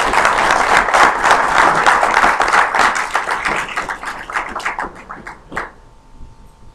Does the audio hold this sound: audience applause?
yes